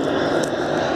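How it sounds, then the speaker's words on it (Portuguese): A propeller airplane drones overhead in a steady, loud, broadband rumble that fills the whole second with no pause. "Aí já, avião, hein?"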